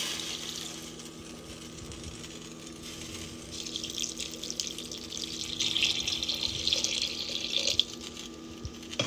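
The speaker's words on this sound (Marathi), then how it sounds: "तर यामध्ये मी अजून पाणी ॲड करतो" Water pours steadily into a pot of dal-khichdi with oats, a rushing splash that grows louder and fuller over several seconds against a low background hum.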